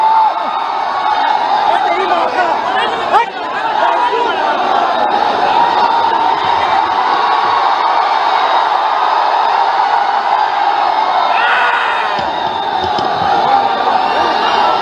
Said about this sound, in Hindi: एक बार तालियों के गड़गड़ाहट से स्वागत करें।